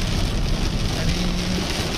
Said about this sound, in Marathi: तर तसा आज वळीव बरसतांचा प्रत्यक्ष अनुभव आम्ही या प्रवासात फक्त घेतोय